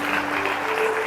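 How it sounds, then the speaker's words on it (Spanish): Applause breaks out at a church conference, a brief burst of many hands clapping together at close range, with a low steady hum beneath. "por favor, dale un aplauso"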